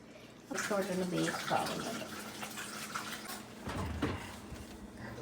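Tap water gushes and splashes as cake-making utensils are rinsed, a steady close running stream while someone talks over it.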